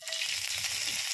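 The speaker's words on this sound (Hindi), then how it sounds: "तेल गर्म हो गया है तो इसमें हम हरी मिर्च डाल देंगे" Green chillies hit hot oil in a pan, giving a steady, close sizzling hiss that runs without a break.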